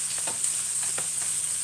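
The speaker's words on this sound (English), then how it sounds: "My meat patty is cooking. My chips are frying." Steady bright sizzle of a burger patty and chips frying in a pan, with a few soft scraping stirs and clicks over the constant crackle; no talking.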